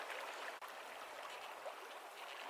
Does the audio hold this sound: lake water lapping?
yes